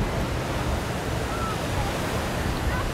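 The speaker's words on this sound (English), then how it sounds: "we're in Huntington Beach right now, and the waves are really nice" Ocean waves at Huntington Beach, heard from a spot well up from the water, make a steady broadband wash of surf mixed with wind buffeting the microphone, continuous and fairly loud with no voices.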